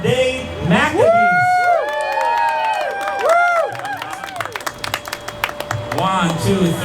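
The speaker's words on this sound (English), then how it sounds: "So a round of applause for what I'm going to call the group of modern day Maccabees" An audience at a Chanukah gathering whoops and cheers with rising, sliding voices, then breaks into a burst of crisp, scattered hand clapping before the cheering returns.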